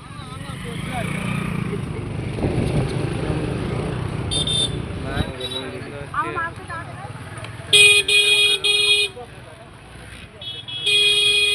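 Road traffic around a busy temple fair rumbles past with engines and repeated horn toots, sharp honks standing out near the end over a crowded, noisy background.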